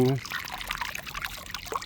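Water splashes and trickles as it is poured out for a pet duck, a close, uneven run of small splashes and drips. A voice opens the clip.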